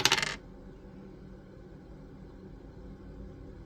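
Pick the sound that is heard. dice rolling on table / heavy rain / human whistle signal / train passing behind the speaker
dice rolling on table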